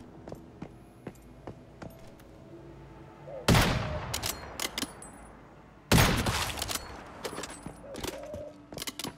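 Sharp gunfire in the Once Human video game: scattered single shots, then two loud bursts of rapid fire, each ringing out and decaying, with sparse clicks between.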